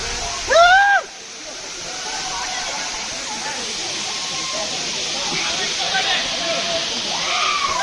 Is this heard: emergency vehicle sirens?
no